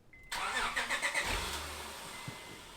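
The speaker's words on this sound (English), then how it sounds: "Pretty silent, but we're going to get Calvin to do a few revs" A Honda Accord V6 engine with a long-tube J-pipe turns over and catches with a few quick revs, then settles into a low, quiet idle.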